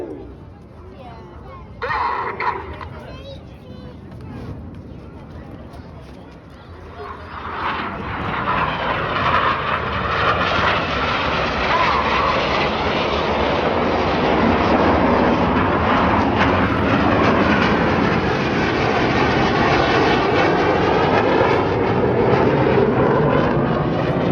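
Red Arrows display jets, the synchro pair diving down to leave the display area at an air show, a roaring jet rush that swells from quieter engine noise into a loud, sustained sweep.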